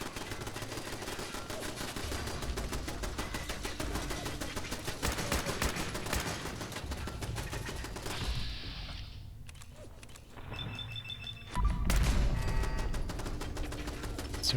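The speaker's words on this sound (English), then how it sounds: "Oh, well, that's a turret." Automatic turret gunfire in Fallout 4, dense rapid bursts of shots running almost continuously, loud and close, with a brief lull before a heavy burst resumes.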